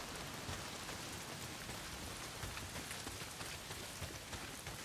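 Heavy rain pours steadily in the Days Gone game world, a dense, even patter and hiss of drops hitting surfaces, fairly quiet with no other sounds.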